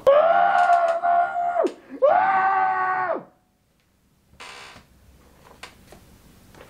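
A person screams loudly twice in long sustained wails, each ending in a falling break, followed by near silence and faint shuffling sounds.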